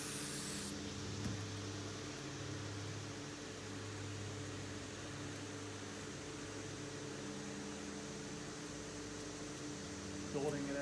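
An aerosol can sprays in a long continuous hiss while crafting a Halloween haunted head light, a steady airy rush held for several seconds over a low background hum, starting abruptly and fairly close.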